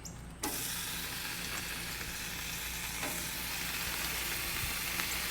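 Butcher's bacon hits a hot Blackstone griddle and breaks into a loud, steady close sizzle that holds without pause, with faint pops over the hiss.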